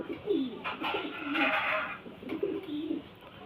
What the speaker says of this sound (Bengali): দেখুন পায়রা কোয়ালিটি দেখুন খুব সুন্দর পায়রা